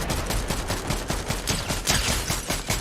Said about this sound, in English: There's some gunfire near me.